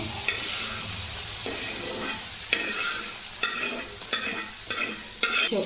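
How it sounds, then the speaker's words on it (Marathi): Steady sizzle of tomatoes frying in oil, with periodic scraping and stirring strokes, close and continuous, no voices. "टोमॅटो पण तेलात थोडे परतवून घ्यायचे"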